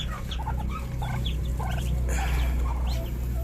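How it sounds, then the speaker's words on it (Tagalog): A crowd of newly hatched Muscovy ducklings peeps continuously, with many high chirps overlapping close by over a low steady hum. "25 yan guys, 25 pieces bago nating pisang bibe."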